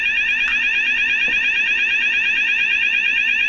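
A Luminite ALERTEX wireless lockdown system sounds its critical alert: a loud, steady, piercing electronic warble held without a break, close by with faint background noise.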